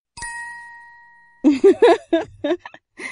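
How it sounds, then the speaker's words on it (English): A golden bell rings once with a clear sustained ding that slowly fades, followed by a person speaking. "I pick up the golden bell and I give it a ring."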